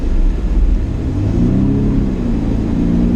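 A BMW drifting with wheel spin, its engine revving loud and close inside the cabin, a sustained rumbling drone that climbs in pitch as the throttle is modulated.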